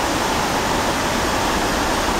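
A small waterfall on a river near Shasta pours as a steady, loud, broadband rush of falling water, close and continuous with no voices over it.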